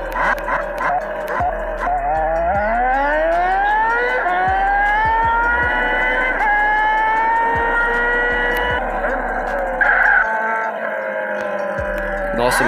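A modified motorcycle engine, a Yamaha R1 in GTA San Andreas multiplayer on Android, roars loud and close, its pitch climbing smoothly as it accelerates, then holding a high sustained whine with brief blips.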